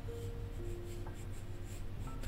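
A pencil scratches and rubs steadily across paper while fingers and hands are sketched. The soft, continuous scratching is close and quiet, with no voices.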